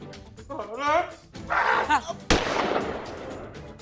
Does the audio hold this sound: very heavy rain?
no